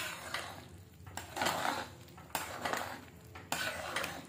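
A metal spoon stirring boondi into kadhi in a pot, several quiet scraping and clinking strokes against the pot sides in separate bursts, alone without talk.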